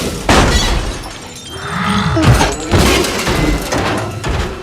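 A loud, dense crash of crunching metal and shattering glass as Bumblebee smashes a car in a Transformers movie scene, with heavy thuds layered under a booming cinematic soundtrack.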